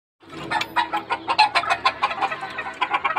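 A Brown Red and Hatch cross gamecock rooster, its feathers a little battered, gives a rapid run of clear, close clucks and short calls in an uneven rhythm.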